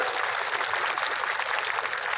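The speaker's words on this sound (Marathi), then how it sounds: "विजयदादांसाठी सर्वांनी एकदा दोन टाळ्या वाजवत" An audience claps at a local development works ceremony on a road in Ahmednagar, a dense, steady wash of applause from many hands that holds evenly throughout.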